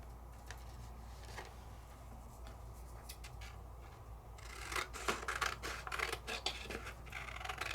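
Paper card stock being trimmed for a handmade card, with a run of quiet, crisp cutting snips and light scratchy rustles close by, growing busier toward the end, no voices.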